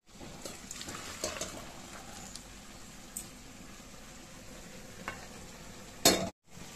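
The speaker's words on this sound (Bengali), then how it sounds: "এবার আমি ডালটা ঢেলে দেব" Lentil dal poured into a pot for a sour dal with raw mango, a soft wet rush and gentle sizzle with a few clinks against the pot, ending in a sharp knock and brief silence.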